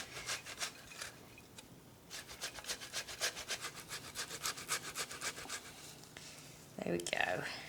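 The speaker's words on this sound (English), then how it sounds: "What we want to do is grate them into a bowl. So just use a normal grater. Try and go for the big side and just grate them." Potatoes rubbed down the large holes of a box grater into a bowl, giving a quick run of rhythmic, close rasping strokes that pause, resume steadily, and end in a louder burst.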